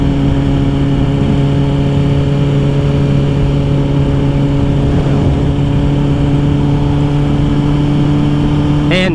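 A Kawasaki ZX-10R sport bike runs while being ridden, giving a loud, steady engine drone with strong tonal harmonics and constant wind rush, with a brief rising whine near the end.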